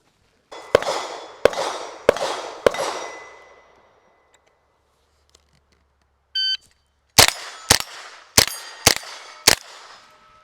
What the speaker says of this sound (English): Now again, I'm going to try to center up on this stop plate. I just want to make sure I'm calling good shots on these.